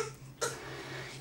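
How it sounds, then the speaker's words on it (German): A single faint cough, short and throaty, bursts out midway over a quiet indoor room with low background hum. "Du hustest."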